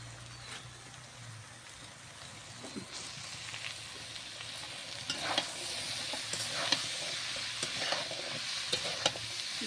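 Potatoes and onions cooking down with taro stolons and prawns sizzle steadily in a pan, broken by repeated scraping stirs and small clinks of a spoon that grow busier later, with no talking.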